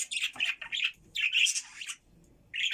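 Budgerigars in an indoor aviary cage chirping and chattering in close, bright bursts of warbling calls separated by brief pauses, with no talk over them.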